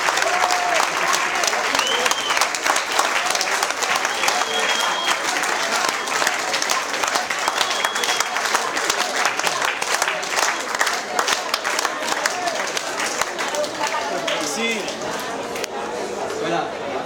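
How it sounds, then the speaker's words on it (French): An audience applauds an Egyptian delegation at an autumn salon art event. The clapping is dense and steady and runs the whole time at an even, full level, with crowd noise mixed through it. "Je voudrais qu'on les applaudisse car ils sont vraiment extrêmement méritoires"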